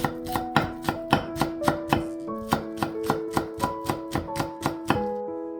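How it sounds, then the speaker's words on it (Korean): Knife chopping two scallions (green onions) on a cutting board, a steady run of about twenty crisp, evenly spaced strokes, close and clear with no talk. "쪽파를 송송 썰어 주세요."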